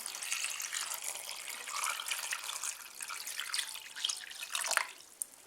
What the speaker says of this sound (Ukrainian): Тому ми їх заливаємо сольовим розчином, хоча б хвилин на 10.